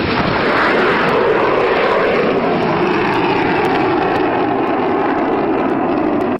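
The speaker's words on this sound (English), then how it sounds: "This jet doing a really low pass." Jet aircraft making a very low pass, a loud continuous roaring rush that fills the whole stretch without pause, close and overwhelming.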